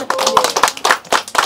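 Hand clapping by a group of people at a Nepali family gathering, sharp irregular claps in quick clusters, close and fairly loud, with faint voices around.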